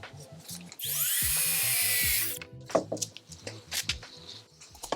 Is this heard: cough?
no